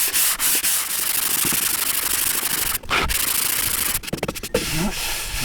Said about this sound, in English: I just had to make myself a new sanding block from a bit of high density foam